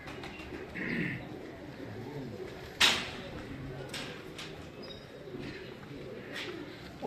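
Breeder pigeons on a rooftop coo softly in low, rolling calls, with a sharp knock and faint rustling and chirps in the background.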